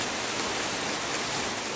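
Steady rain drumming on a nearby metal sheet roof, a dense, even hiss of countless drops with no gaps or voices, fairly close and constant.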